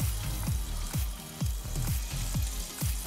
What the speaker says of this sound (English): you need to hear that sizzle